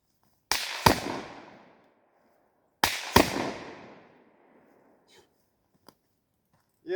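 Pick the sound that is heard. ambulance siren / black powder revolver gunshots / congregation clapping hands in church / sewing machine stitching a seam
black powder revolver gunshots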